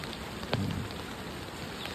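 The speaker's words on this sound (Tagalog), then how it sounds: "Umulan pa din." Steady rain falls during a flood in an area of the Philippines, a continuous close patter of drops hitting surfaces, with no talk.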